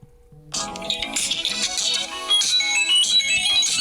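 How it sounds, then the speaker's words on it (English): A phone call rings out on a smartphone, a bright, dense melodic tone starting after a brief quiet moment and continuing steadily and fairly loud with no talking. "You see it's ringing."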